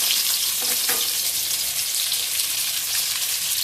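Whole bay leaf and a little onion hit hot oil in a pan, giving a steady, loud, hissing sizzle that runs unbroken with no voices.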